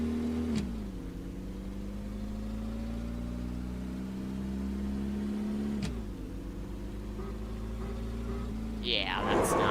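A small car accelerates at full throttle, its engine note climbing steadily in pitch, then dropping briefly at a gear change before climbing again. The engine is close and steady, and there is a short noise near the end.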